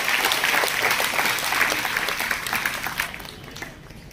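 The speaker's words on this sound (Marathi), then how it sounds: "सर्व विद्यार्थ्यांनी जोरदार टाळ्या वाजवायच्या, टाळ्या कमी नाही पडल्या पाहिजे." A room full of students claps loudly and steadily, the applause gradually thinning out toward the end.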